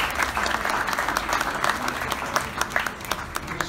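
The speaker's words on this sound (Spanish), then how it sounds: "Hay que darles un aplauso." Audience applause for a class of Spanish diplomats at a United Nations forum on Tunisia, a steady crowd clapping with a few louder individual claps standing out near the end.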